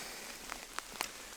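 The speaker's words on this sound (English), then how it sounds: "It's been raining and raining and raining." Quiet, steady rain falls on a mountain hiking trail along Corsica's GR20, with a few sharper drips standing out against the soft wash.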